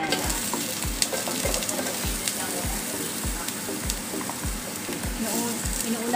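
Onions frying in hot oil for a simple pechay cabbage and tuna mackerel dish: a steady, close sizzle runs throughout, with a soft low knock repeating roughly every half second.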